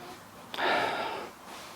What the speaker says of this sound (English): you've got to sniff the bristle